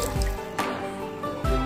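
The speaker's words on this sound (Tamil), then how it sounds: "இப்போ இந்த அரிசியில் 3 டம்ளர் தண்ணி ஊற்றிக்கோங்க." Water pours into washed rice for a garlic and fenugreek kanji, a short, soft trickling splash with light drips, quiet and close.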